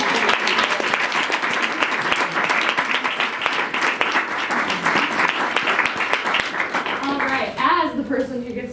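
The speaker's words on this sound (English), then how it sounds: "let's give another round of applause, especially to our students" An audience gives a round of applause after a university panel on the alt-right, with dense, loud clapping throughout that thins out near the end as voices begin to rise over it.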